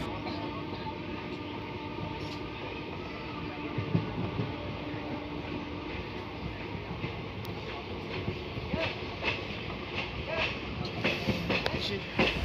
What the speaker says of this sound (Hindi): और हमारे ट्रेन के नीचे से एक ट्रेन जा रही है